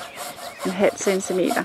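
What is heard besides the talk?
sawing 0.5 cm off a wooden post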